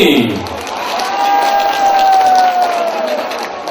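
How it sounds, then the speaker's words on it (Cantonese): Applause and cheering from a crowd at an alumni association anniversary celebration and officer installation banquet, a steady wash of clapping lasting several seconds with some whoops over it. "掌聲支持。"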